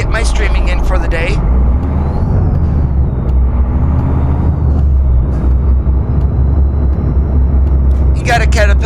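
A Freightliner Classic XL with a 600-horsepower Caterpillar C15 engine in American Truck Simulator, a steady deep diesel rumble droning throughout, with short bursts of higher-pitched hiss at the start and end.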